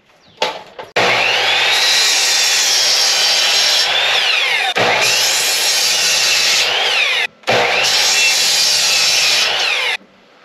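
Repeated bursts of a power saw cutting through wood for a carpenter bee trap, loud and close, three long cuts separated by brief pauses.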